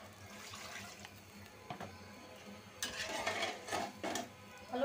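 A little water is poured into a pot of potato curry on the stove, with soft splashing and bubbling that swells in bursts over the last two seconds after a quieter stretch of faint kitchen clatter.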